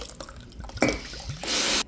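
Spiced rum poured in a short liquid stream into a Puerto Rican coquito Christmas drink mix, after earlier splashes of Don Q 151, with a steady splashing pour near the end.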